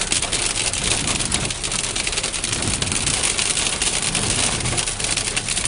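Hail pelting down hard on Popovycha Street in Chernivtsi, a dense, steady drumming and rattle of stones striking surfaces and cars, loud and continuous throughout with no voices.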